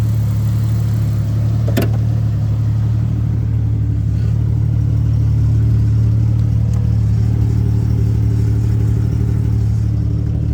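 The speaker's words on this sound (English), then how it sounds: "Sounds like the exhaust has a rattle." A Jeep Grand Cherokee ZJ engine idles steadily with a low, droning hum and a faint underlying rattle from the exhaust with a Cherry Bomb muffler, plus a single sharp click early on.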